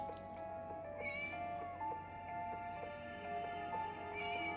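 A video game cat meows in high, drawn-out cries, two separate meows over a quiet electronic background hum, with no talking.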